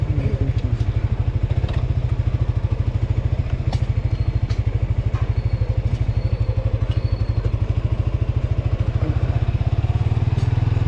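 A motorcycle rides slowly through an indoor market in Taiwan, its engine a close, loud, steady low thrum of rapid even pulses, with faint clatter and market bustle behind it.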